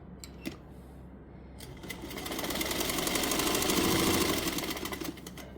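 Sewing machine running a double stitch along a frock's shoulder seam, a fast rhythmic mechanical whir that starts after a few short clicks, swells to a steady run and continues without speech.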